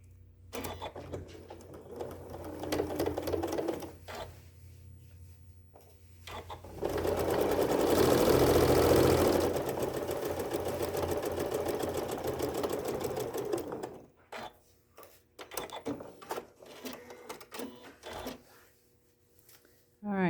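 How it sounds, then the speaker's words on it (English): A domestic sewing machine stitches a seam on fabric for a quilt sampler block, running in several bursts including one long steady run in the middle, close and clear, with pauses of handling between. "then sew the other side"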